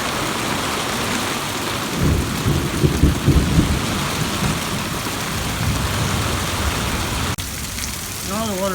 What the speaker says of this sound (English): All the water's overflowing in my gutter.